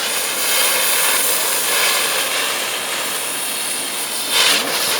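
A camellia flower novelty firework spins on the ground outdoors and sprays a steady, loud hiss for several seconds, with a brief surge near the end.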